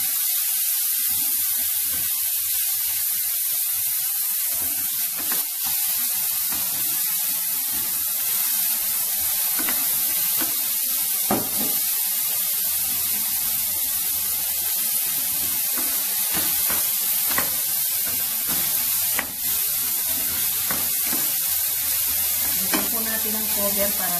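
Onion and tomato sautéing in a pan for menudo: a steady broadband sizzle and hiss runs throughout, with occasional scraping stir clicks and faint clatter, no talking.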